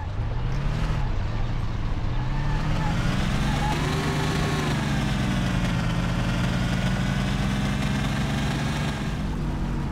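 A car engine in the video game Mafia idles and revs in a steady, continuous drone, rising and falling gently in pitch throughout.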